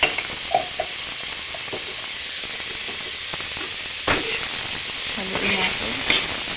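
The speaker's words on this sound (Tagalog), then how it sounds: "Haluin natin para kumalat yung seasoning sa mga ibang parts ng gulay." Bitter gourd, tomato and egg being stirred in a hot pan, with a steady sizzle and hiss throughout, a few scraping knocks of the utensil, and a louder clatter near the end.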